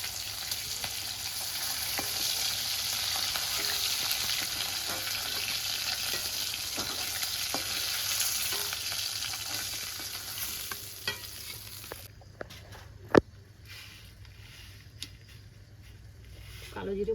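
Hilsa fish fries crisp in a pan with a steady, loud sizzle and stirring, then the hiss drops away and gives way to quieter scrapes and one sharp knock of a utensil near the end.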